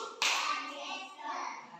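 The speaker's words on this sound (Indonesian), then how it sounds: "Tepuk satu" A single sharp burst of children clapping together in a classroom on the teacher's cue, followed by a brief ringing tail and faint chatter.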